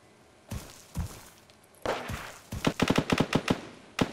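Machine gun fire in a World War 2.5 mod, opening with a few spaced single shots, then a rapid burst of sharp, closely spaced rounds with a final shot at the end, loud and close.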